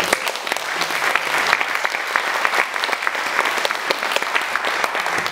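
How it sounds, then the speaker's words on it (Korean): Steady applause from a concert audience greeting a performer's introduction at a Korean art song singing event, dense even clapping sustained throughout at a fairly loud level with no talk over it. "큰 박수 부탁드립니다."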